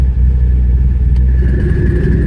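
Twin-turbo 2013 Chevrolet Camaro ZL1 built by Vengeance Racing, idling with its exhaust cutouts open: a loud, deep, continuous rumble heard close up and alone.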